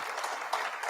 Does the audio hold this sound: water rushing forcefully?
no